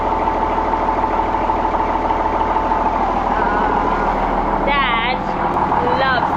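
A tractor engine idles in a steady, even rumble throughout, with a brief squeaky whine near the end.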